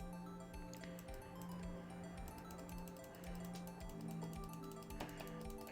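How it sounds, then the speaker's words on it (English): Rapid mouse clicking while playing a detective game, a quick, faint run of sharp ticks over a quiet musical background. "You can just hear me clicking rapidly."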